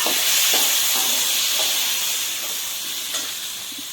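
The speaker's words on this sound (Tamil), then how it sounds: "நம்ம கட் பண்ணியே வச்சு 5 தக்காளி பழத்தையும் போட்டு வதக்கி விடுங்க." Chopped tomatoes and fennel seeds sauté in a hot pan, giving a steady broad hiss of steam and sizzle with a few faint stirring knocks, fading slightly toward the end.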